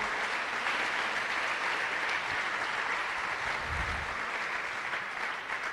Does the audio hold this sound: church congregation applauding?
yes